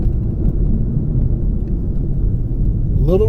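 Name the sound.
Ohtsu tire road noise while driving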